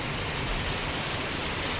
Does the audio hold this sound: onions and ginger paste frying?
no